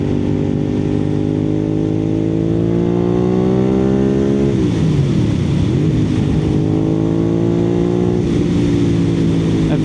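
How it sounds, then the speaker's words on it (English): A Suzuki SV650 V-twin motorcycle with a flashed ECU pulling hard in third gear, its engine note climbing steadily, dropping sharply at a shift midway, then rising again, loud and continuous over wind with no talking. "this bike has got a lot more mid-range punch in third gear"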